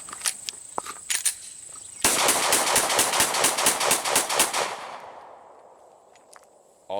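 A Glock 17 pistol fed from a Pmag magazine fires eleven rounds in a rapid, evenly spaced string, loud and close outdoors, each crack sharp with the last shot trailing into quiet.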